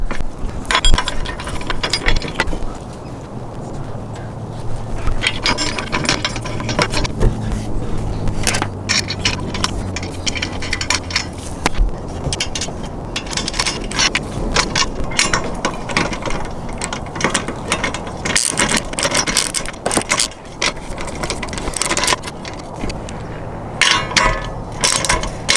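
A hand ratchet clicks rapidly in bursts while bolts are tightened on the mounting brackets of a Rough Country 8-inch Black Series LED light bar on a vehicle. The close, loud pawl chatter comes with occasional metallic clanks and no speech.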